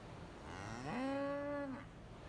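A single drawn-out moo from a cow at the Maryland State Fair 4-H/FFA beef heifer show, rising and then holding steady for about a second before cutting off, heard faintly in a quiet, roomy arena.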